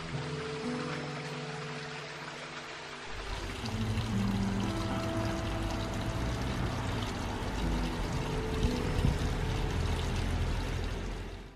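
Iron-rich spring water running and pouring at Chalice Well in a garden setting, a steady broadband splashing flow that grows louder and fuller after the first few seconds and continues without talk.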